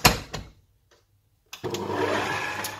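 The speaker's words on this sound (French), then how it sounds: "on va repartir pour quelques minutes de pétrissage pour qu'ils incorporent bien la pâte" Stand mixer kneading doughnut dough as butter is worked in, starting with a couple of short motor bursts, a brief pause, then a steady loud whirring drone that continues alone.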